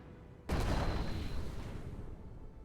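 A single loud, sudden blast of weapon fire from a war strategy game with tanks, planes and soldiers, trailing off in a long, rumbling decay.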